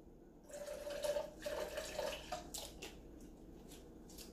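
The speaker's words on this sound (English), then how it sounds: "we're gonna add a splash of cranberry juice" A splash of cranberry juice, about an ounce, poured into fresh lime juice for a Cosmopolitan cocktail, giving a soft trickling and dripping pour of a few seconds, close by and moderately quiet.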